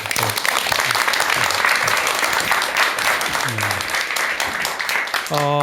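A room full of people claps steadily in sustained applause before a lecture on the Buddha, loud and dense, while a voice speaks faintly over it at moments.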